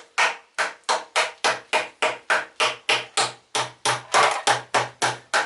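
A dull knife being hammered into a corner of an engine oil sump, giving about seventeen sharp, evenly spaced metallic strikes at a steady rhythm, close and loud with no talking.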